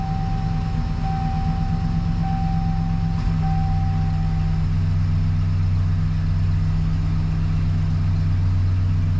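A Chevrolet Silverado pickup engine idling steadily right after a new fuel pump install, a close, continuous low rumble with a faint whine, no talk over it.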